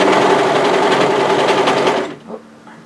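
A sewing machine stitches the waistband seam of a skirt, starting at a side seam. It is close and loud, running continuously for about two seconds before stopping, followed by a faint click.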